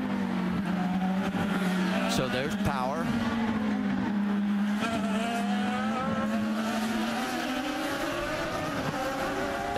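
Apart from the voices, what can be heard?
IndyCar race cars passing on street circuit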